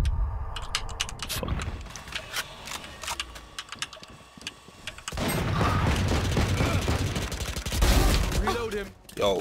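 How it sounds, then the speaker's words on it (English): Rapid SMG gunfire in a tactical shooter match, bursts of sharp crackling shots with clattering clicks, growing denser and louder in the second half, mixed with game effects and talk. "Yo, this SMG is sick."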